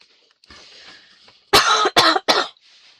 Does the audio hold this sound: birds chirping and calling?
no